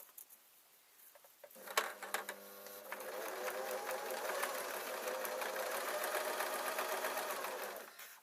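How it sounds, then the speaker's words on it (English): A sewing machine hems the top of an oversized Christmas fabric storage bag, starting after a short pause and then running in a steady, close, fast rattling whir for several seconds before stopping. "What I'm going to do is I'm going to hem the top."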